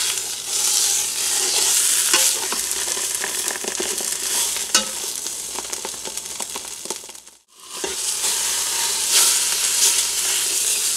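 Chicken searing on high in a Ninja Foodi multicooker on the sear setting, a loud, steady sizzle and crackle with brief stirring clatter, a short drop to near silence partway through, then the sizzling resumes.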